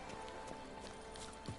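Roach, the horse in The Witcher 3 video game, trots with a steady clip-clop of hooves over a constant tonal game backdrop, close and even throughout.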